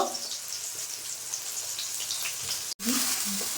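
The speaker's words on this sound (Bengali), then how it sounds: "পাবদাটাকে ভেজে নেব গরম তেলে একদম লাল লাল করে ভেজে নেব" Pabda fish fry in hot oil with a constant, loud crackling sizzle and spitting, briefly cut off before resuming strongly.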